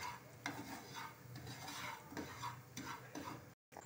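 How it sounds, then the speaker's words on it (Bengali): Semolina toasting in a pan for suji barfi, with repeated spoon scrapes and stirring strokes over a soft dry frying sizzle, close and moderately quiet, briefly cutting out near the end; no speech. "আমার সুজিটা লাল করে ভাজা হয়ে গেছে"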